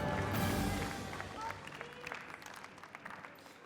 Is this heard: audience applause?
yes